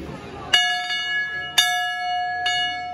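A notification bell sound effect at the close of a model train show expo video rings three times, each a bright struck chime with a long ringing tail, loud and close.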